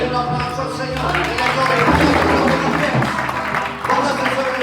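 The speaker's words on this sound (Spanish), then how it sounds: "Denle un aplauso al Señor." A church congregation claps and cheers for the Lord in a sustained wave of applause that swells in the middle, with voices and music mixed underneath.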